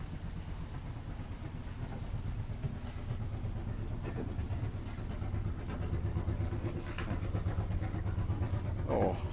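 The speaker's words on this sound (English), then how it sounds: "Oh, did you hear that engine? Lovely chug chug chug of the engine." Canal boat engine on the Beeston/Nottingham Canal chugging steadily for several seconds, a continuous low rumble with a rhythmic pulse, fairly close, with outdoor ambience and no talking.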